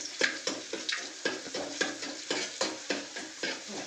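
Fenugreek seeds and garlic frying in hot oil in a pan, with a steady close sizzle broken by regular stirring scrapes about every third of a second, no voices over it.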